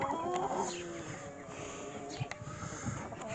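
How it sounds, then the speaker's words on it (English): Injured hens in a small coop infirmary cluck softly and intermittently, faint and close, with a few brief sharp calls over a quiet background. "That has the hurt chickens."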